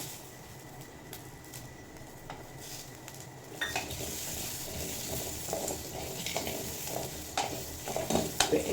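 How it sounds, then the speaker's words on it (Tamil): Dried red chillies and shallots frying in oil, quiet at first, then loud sizzling with a spoon stirring and scraping against the pan. "இந்த மாதிரி கொஞ்சம் பொரிஞ்சதுக்கப்புறம் நம்ம சின்ன வெங்காயம் எடுத்து வச்சுருக்கோம்ல, இது கூட சேர்த்துக்கலாம்."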